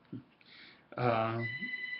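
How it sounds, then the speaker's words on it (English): A telephone rings with a bright electronic trill, cutting in sharply after a short quiet gap and sustaining its tonal ring to the end, preceded by a faint brief knock. "I'll just let the phone ring."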